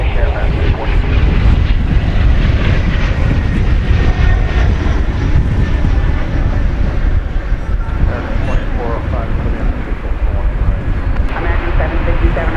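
A fixed-wing airliner roars at DFW Airport, a broad steady engine rumble sustained throughout, loud and near with some wind buffeting the microphone, while radio or voices murmur faintly underneath.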